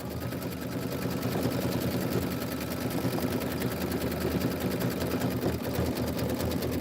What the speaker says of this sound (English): This is 12 minutes of stitching. Just let it stitch.